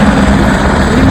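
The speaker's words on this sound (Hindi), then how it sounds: "बहुत ज्यादा हेलीकॉप्टर है ना इधर पे, बहुत टूरिस्ट लोग आ रहा है।" A helicopter passes near tourist traffic on the Kedarnath trek. Its engine and rotor give a loud, steady, close droning roar with no voices.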